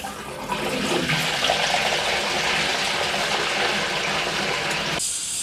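Water rushes through household plumbing after the cold supply is turned back on during an immersion heater change, a loud steady gushing flow that cuts off abruptly near the end.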